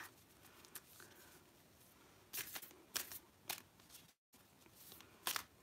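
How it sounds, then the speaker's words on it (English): Runes shuffled during a tarot and moon ritual give off scattered, faint clicks and rattles in short bursts, with a brief silent gap partway through. "randomly shuffling the runes, even though we don't need them"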